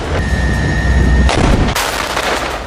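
Israeli tank guns firing heavy shells in Gaza: loud, booming blasts with rolling echoes, one heavy report giving way to another sharp crack near the end, and no voices.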